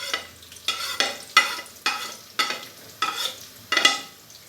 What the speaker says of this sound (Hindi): प्याज डालने के बाद अभी प्याज को हम अच्छे से फ्राई करेंगे तकरीबन गोल्डन ब्राउन होने तक